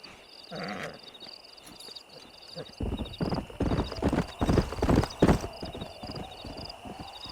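Horse hooves clip-clopping in the video game Red Dead Redemption, a close run of rhythmic hoof thuds growing louder through the middle, with a brief whinny early on and game music and speech around them.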